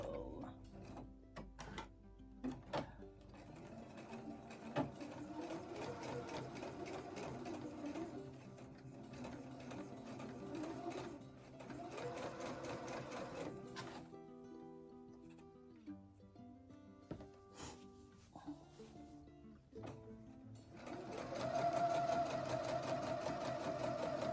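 An embroidery machine stitches a cottage tea towel with a rapid, steady mechanical rattle and whir. The rhythm shifts and pauses now and then, heard close and fairly loud with no talking.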